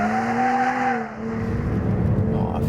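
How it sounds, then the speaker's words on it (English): A Porsche Cayman S driving on the Silverstone circuit, engine drone steady and close with rising and falling pitch as it changes speed, no talk. "we'll start off on track in the Cayman S."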